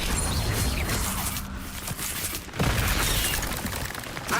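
A spell effect in the Hogwarts Legacy game, a dense, continuous whooshing and crackling burst with brief dips, loud and close throughout.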